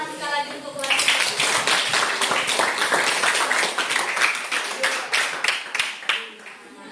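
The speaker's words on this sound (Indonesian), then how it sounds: "Tepuk tangan sekali lagi untuk kelas." A classroom of students clapping together, a dense burst of hand claps that starts after a brief moment and fades toward the end, with some voices mixed in.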